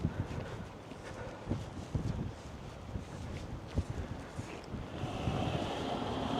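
Strong gusting wind from Storm Lilian blowing through a housing estate in Kidsgrove, a continuous loud rumbling roar buffeting the microphone with irregular thumps and gusts, building stronger toward the end.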